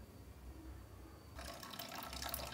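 A toilet cistern in a home bathroom, dosed with disinfectant and fabric softener, flushes with a sudden broadband rush of water that continues steadily as the tank begins refilling, fairly close and with no talking.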